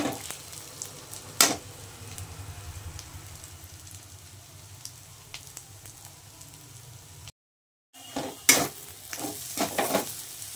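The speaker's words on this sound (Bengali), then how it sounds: "এবার আমি এখানে জিরে, ধনে, লঙ্কার গুঁড়ো আর হলুদ, আলুটাকে আমি ভালো করে ফ্রাই করে নেব।" Spiced potato filling for aloo paratha, with cumin, coriander, chili powder and turmeric, fries and is stirred in a pan, giving a steady close sizzle broken by scraping strokes and a brief gap, with no talk.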